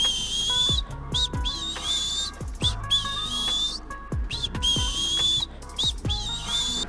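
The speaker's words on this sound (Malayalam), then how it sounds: "ആമ കൂട്ടിൽ കിടന്ന് ചൂളമടിക്കാൻ തുടങ്ങി." A cartoon turtle whistles from inside its cage, a bright, looping melodic tune in short repeated phrases punctuated by soft thudding plucks, clear and close.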